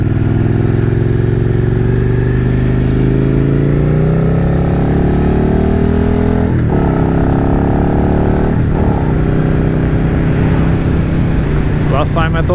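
Suzuki SV650 motorcycle engine droning steadily while riding on a damp day, loud and close, with shifting pitch as it accelerates and brief dips between gears; wind buffets the microphone throughout.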